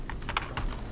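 Quick keystrokes on a computer keyboard in a school editing lesson, a handful of close, crisp clicks in short succession over a steady room hum, with no talking.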